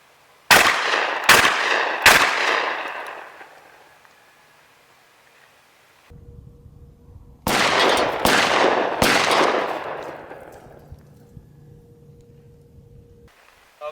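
Six loud blasts from a Mossberg 535 12 gauge shotgun fired at empty propane cans outdoors, three quick shots, a pause with faint handling noise, then three more, each ringing out and fading.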